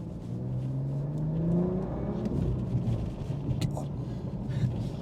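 A BMW M car's engine revs and rumbles steadily while driving, a loud continuous drone with rising and falling pitch and road noise underneath, no talking.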